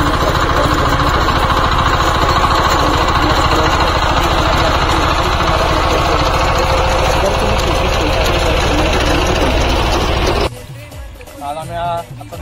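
A tractor engine running on a cricket ground thuds out a loud, rapid, chugging rhythm that is steady and close, then cuts off abruptly near the end, followed by brief voices.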